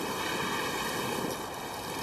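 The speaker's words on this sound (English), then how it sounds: "The waves are becoming violent." Rough, violent ocean waves roar in a dense, steady wash of surf and wind noise at sea, continuous and without voices.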